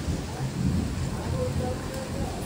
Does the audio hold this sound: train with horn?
no